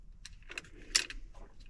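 Car keys on a ring jangling against the ignition of a Foxbody Mustang: several light, bright metallic clinks and rattles in quick, uneven bursts, close and fairly quiet.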